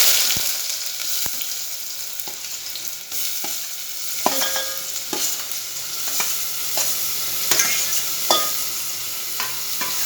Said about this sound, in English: Here in a pan I have oil which is hot. Now we'll add the chopped onion and the chopped tomato.